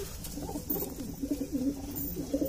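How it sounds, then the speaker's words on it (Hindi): Soft, low cooing of a golden zira pigeon repeats in short rolling phrases, fairly close, with faint background noise and no talking. "भाइयों ये गोल्डन जीरा कबूतर है"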